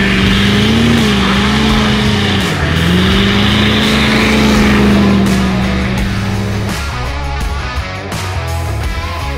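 A car does a burnout, its engine revving hard and continuously with a wavering pitch, loud and close for the whole stretch, with tire roar underneath and no talk.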